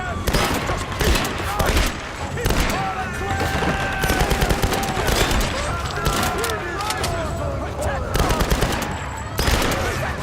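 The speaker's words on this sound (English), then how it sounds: "Good shooting though." Video game gunfire: loud, sustained automatic bursts and rapid shots throughout, mixed with game sound effects and a voice talking over the action.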